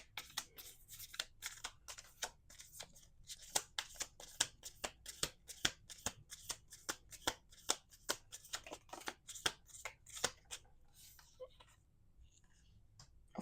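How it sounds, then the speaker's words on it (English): A deck of oracle cards is shuffled by hand in a quiet room, giving a long run of quick papery riffles and snaps at close range. The strokes fall in a steady rhythm and stop near the end. "We're going to do 2 more shuffles."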